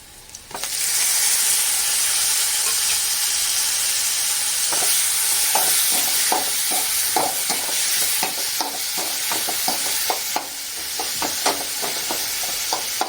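Tomatoes sizzle steadily in hot oil in a pan for egg thokku, with the crackle of frying running throughout and a spoon stirring and scraping in repeated strokes. The cooking is close, and no one talks.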